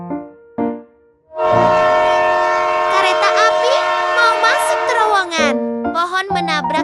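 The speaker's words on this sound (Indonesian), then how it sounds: "Mereka langsung kabur menjalankan kereta api." Cartoon train chugging along with a loud, sustained whistle-like horn, preceded by a few brief tonal blips, then continuous bright horn tones that bend and wobble before ending in short honks, close and prominent.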